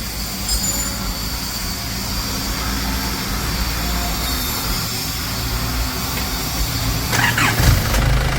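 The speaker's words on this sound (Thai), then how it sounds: "อ่านี้ติดเครื่องเรียบร้อยนะครับ" A TFR Dragon motorcycle, one whose engine won't shut off with the key, runs at a steady, loud idle close by, a continuous rumbling drone with no talking over it.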